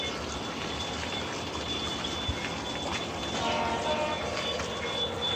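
An O scale model train runs on an outdoor layout, its steady rumbling and rail clatter continuous and fairly close, with a faint high whine throughout and no talk.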